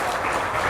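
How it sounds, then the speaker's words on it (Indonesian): Church congregation applauding during a sermon, a dense steady wash of clapping across the whole short moment with no voices over it. "Beri tepuk tangan kepada Tuhan."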